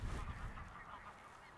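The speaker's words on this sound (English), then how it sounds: "On the left of me, we have a few geese." Several geese on a small pond honk in a rough, overlapping cluster at close range, loudest at the start and continuing more softly over low outdoor rumble.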